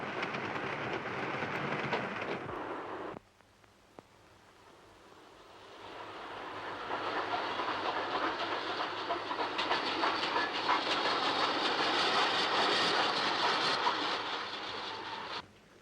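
A train rumbles along steadily with rhythmic clacking of wheels on rails, briefly dipping quieter before swelling into a loud, continuous roar.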